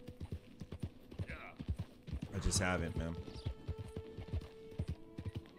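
Horse hooves clip-clop at a steady walking rhythm in Red Dead Redemption 2, close and clear throughout, with someone talking briefly over the footfalls.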